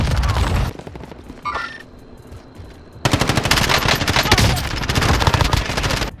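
SMG fire in Call of Duty Warzone, rapid loud automatic bursts that stop for a couple of seconds of quieter game sound with a brief electronic tone, then resume as a sustained dense volley.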